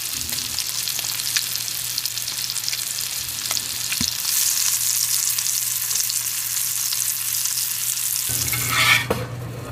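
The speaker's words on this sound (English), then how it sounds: "Hear that sizzle?" Steady, crackling sizzle of fish frying in a hot pan, continuous and close, with a low background hum and a few light clinks.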